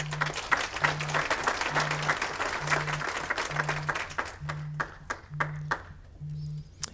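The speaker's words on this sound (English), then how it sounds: "let's give the leadership a nice round of applause" Crowd at a regional economic summit applauding the leadership, a round of clapping that thins to scattered claps near the end, with a steady repeating low electronic tone pulsing underneath.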